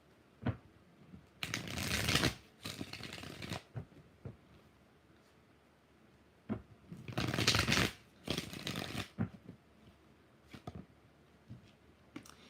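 Tarot cards shuffled in several distinct bursts of riffling, two main clusters separated by quiet pauses, close and fairly crisp with no talking.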